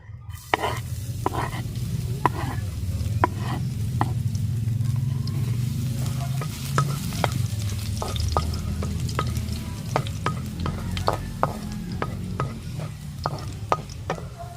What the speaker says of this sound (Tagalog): Ito, mainit na yung ating mantika. Ilagay natin yung ating garlic.